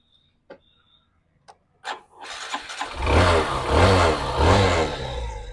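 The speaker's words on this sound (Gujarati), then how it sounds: "સ્ટાર્ટિંગ જોરદાર છે" Bajaj Pulsar 180 or Super Splendor motorcycle at a used two-wheeler dealer: a few clicks and tries, then the engine catches and runs with steady close revving pulses.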